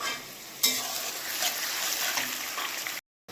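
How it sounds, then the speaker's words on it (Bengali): Potatoes frying in one pan while onions brown in another for a home-cooked chicken curry: a steady, close hiss of sizzling oil that runs without a break, then cuts off abruptly near the end. "একদিকে আলু ভাজা হচ্ছে আর একদিকে মাংসের পেঁয়াজটা লাল করে নিচ্ছে"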